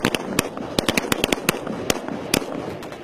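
Soldiers fire guns during a People's Liberation Army psychological training drill, giving a rapid, irregular string of sharp, loud cracks over a steady noisy background.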